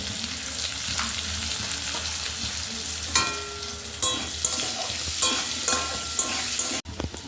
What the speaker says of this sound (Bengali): আলুগুলো ভালো করে লাল লাল করে ভেজে নিতে হবে।